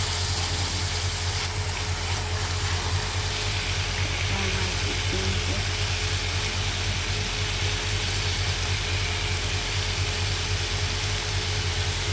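Garlic frying in a pan gives a steady, even sizzle that runs without a break, with a constant low hum in the background and no one talking.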